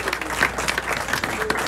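Dense clapping from the audience at a Belle Vue v Edinburgh speedway press conference, even and continuous at moderate loudness for the whole short stretch, with a faint voice or two beneath it.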